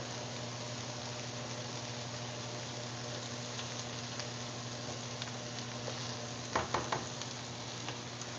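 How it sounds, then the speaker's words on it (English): Seasoned beans in a pot are stirred under a constant steady simmering hiss, with a short burst of scraping and clunking near the end; nearby and fairly quiet, without speech. "So now that let's just stir our beans."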